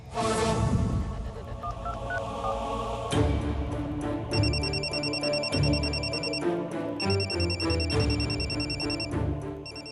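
A phone rings with a bright electronic melody, looping tones repeating in a steady pattern, loud and close.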